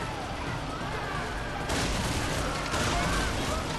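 Weapon fire in the Prototype video game as a gun is tested, a dense continuous rattle of shots that grows louder partway through, with no talking.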